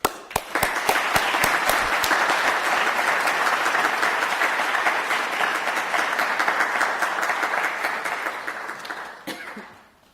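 A large indoor audience breaks into sustained, enthusiastic applause to welcome the Lieutenant Governor of Ontario at a sustainability leaders' event, starting with a few claps, holding steady for about nine seconds, then fading out.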